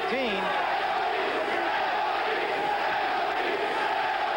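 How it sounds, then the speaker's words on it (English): A boxing arena crowd chants a fighter's name late in round 14. The noise is a dense, sustained roar of many voices that stays loud and distant throughout. "The crowd has backed Eddie Gregory with a chant of Eddie"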